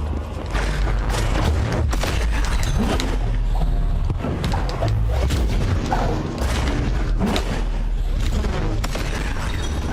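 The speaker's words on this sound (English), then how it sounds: "I really don't like that cannon." Cannon fire in the game Sundered: heavy booms within a loud, dense wall of continuous combat noise and rumbling low end that runs through the whole stretch.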